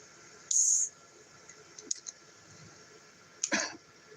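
Two or three short, sharp coughs spaced apart outdoors in the woods in Nova Scotia, with quiet background between them.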